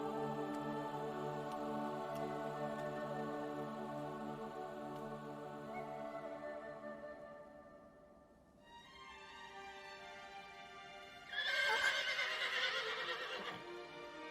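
Horse in Shadow of the Colossus, heard as a long sustained tonal whinny that fades out, followed after a brief pause by a bright, loud neighing burst.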